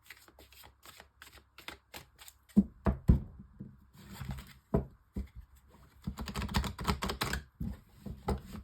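Oracle cards being shuffled and laid out during a six-card reading, with crisp clicks and riffling bursts, some taps of cards set down, close and quiet, no talking.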